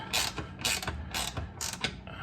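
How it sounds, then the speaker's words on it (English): Wrench turning nuts down while installing a bicycle shift cable, giving a series of four or five close, loud ratcheting bursts in a fairly steady rhythm with brief pauses between them. "I started tightening down the nuts"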